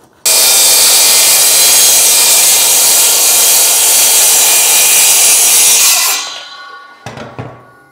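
A power saw cuts through wood for a chest of drawers, a loud, steady, close rasping whine that runs for about six seconds before winding down, followed by a few light knocks.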